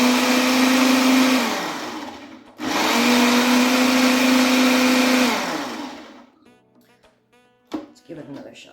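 A blender whirs loudly, mixing a chilled cottage cheese chocolate mousse in two sustained bursts separated by a brief pause, then winds down, followed by faint clattering.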